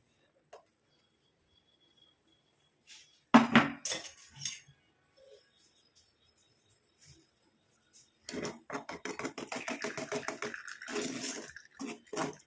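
Ground herbal hair dye paste is worked through a metal sieve, giving wet scraping and clinking sounds. One louder clatter comes early, then a long stretch of rapid, steady rubbing and tapping, heard close and fairly quiet.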